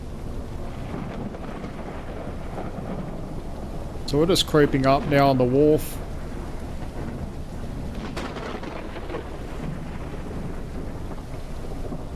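Steady rain and a rumbling thunderstorm in the game Ship Simulator, with wind under it as a ship creeps toward a wharf. Someone talks briefly partway through while the storm continues beneath.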